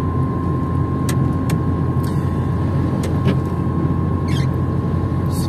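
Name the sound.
car overtaking another vehicle on the road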